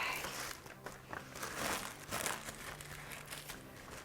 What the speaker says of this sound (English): I need to open this gently because I want to save this beautiful tissue paper.